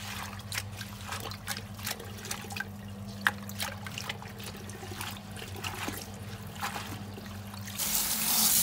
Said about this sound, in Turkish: Şimdi ikinci kere yıkıyorum